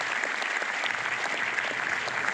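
An audience at a business event bursts into loud welcoming applause for an expected guest, a dense wash of many hands clapping steadily for a couple of seconds without speech.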